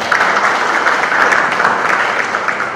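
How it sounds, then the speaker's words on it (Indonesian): Loud, dense applause from a conference audience fills the hall, steady and sustained without pause. "Boleh beri aplaus sekali lagi"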